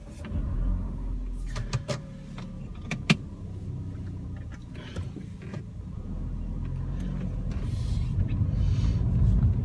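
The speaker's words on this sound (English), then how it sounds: "Let's get this car started." A 2016 Mercedes-Benz CLA 250 Shooting Brake starting up: a low, steady engine rumble with a few sharp clicks near the start, swelling slightly louder toward the end, with no one talking.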